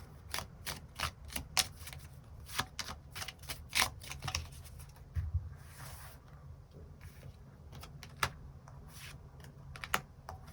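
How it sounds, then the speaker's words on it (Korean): Tarot cards being drawn and shuffled, a steady run of crisp, close clicks and flicks repeating every fraction of a second with soft papery rustling between them, no voices. "월요일부터 일요일까지 어떤 일들이 있을지 추가 카드 뽑아보도록 하겠습니다"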